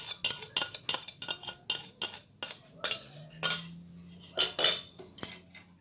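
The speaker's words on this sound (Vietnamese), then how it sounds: "Rồi mình trộn nó lên." A utensil mixes sauce into a vegetarian sesbania flower salad in a bowl, making a quick run of sharp clinks and scrapes, then a few more spaced strokes, close and fairly loud.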